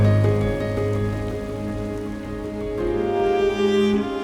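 Rain falls steadily on and off while fly fishing for trout on a big river in Patagonia, an even close patter of drops with no voices.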